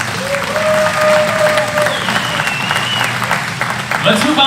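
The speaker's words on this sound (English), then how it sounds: "Let's hear a round of applause for the touring class." Outdoor crowd applauding at a STOL aircraft competition awards ceremony, steady dense clapping with a few cheers and whistles throughout, loud and continuous.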